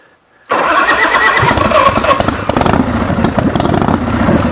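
A 2003 Iron Horse Slammer motorcycle with a 113-inch S&S motor and six-speed transmission fires up without choke after sitting a week, catching suddenly after a brief quiet lead-in and settling into a loud, steady, rumbling idle nearby.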